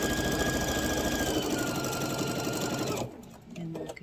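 A sewing machine stitches around a fabric grocery bag, a steady rapid mechanical whir running continuously for about three seconds before stopping abruptly, followed by faint handling sounds.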